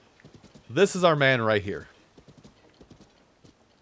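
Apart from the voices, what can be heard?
horse hooves clip-clopping in Tears of the Kingdom video game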